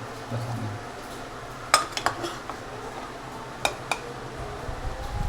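Cooked chana dal is ladled into a pot for Gobindobhog rice khichuri, with a few sharp metal clinks of the ladle against the pot over a low steady kitchen hum.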